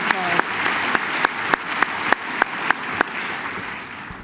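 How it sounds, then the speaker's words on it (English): An audience gives a round of applause at a formal event, a dense clapping bed punctuated by a few sharp, evenly spaced louder claps close by, fading out near the end. "Can we give Stan yet another round of applause?"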